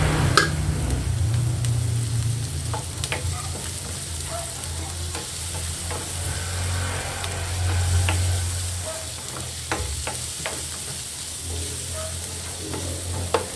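Garlic sizzles steadily in a hot pan while being sautéed for a creamy beef mushroom dish, a continuous frying hiss with scattered stirring clicks and scrapes throughout, with no talking.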